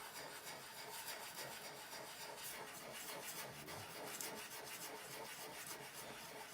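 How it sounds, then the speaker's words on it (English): Sanding block worked over the rosewood fretboard of a 2001 Seagull Artist acoustic guitar during a refret: a faint, steady rasping rub repeats in even back-and-forth strokes, with no talking. "I want to sand all the way down to the rosewood, all around the part that I filled in"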